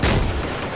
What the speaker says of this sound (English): Oh, gunfight at the main town.